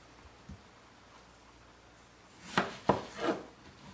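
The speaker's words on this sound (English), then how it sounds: "cut your vegetables while the water is getting ready to boil" A knife cuts onions into large pieces on a board, giving a few soft, close chops in quick succession against a quiet kitchen background.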